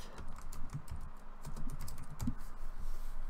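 Fingers type on a computer keyboard while someone writes HTML and CSS code, rapid irregular key clicks at close range, steady throughout with no talking.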